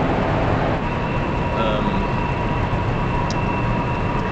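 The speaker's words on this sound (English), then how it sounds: "Stupid train!" A passing train gives a loud, steady rumbling roar that fills the whole stretch, with faint squeals and clanks on top and no talking over it.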